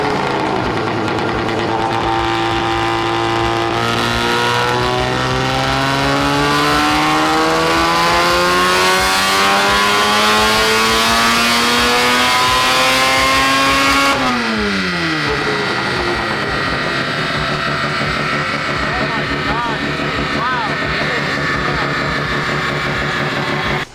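A turbocharged car engine revs unbelievably loud with no blow-off valve, its pitch climbing in long steady sweeps, then dropping and surging unevenly as it settles into a rough, rumbling idle.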